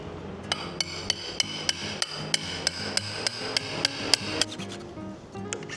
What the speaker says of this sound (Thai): ตรงนี้ก็เดี๋ยวจะตอกหน่อยนะครับ